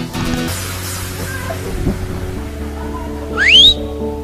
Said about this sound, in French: Prochain coup, je vais siffler des fautes